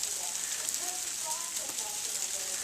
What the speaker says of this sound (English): But it's freezing rain right now.